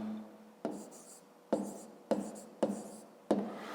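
A pen writes a math solution on paper in five sharp scratchy strokes, each starting with a tap and fading, close and quiet.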